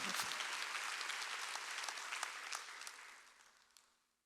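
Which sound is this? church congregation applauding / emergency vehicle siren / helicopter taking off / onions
church congregation applauding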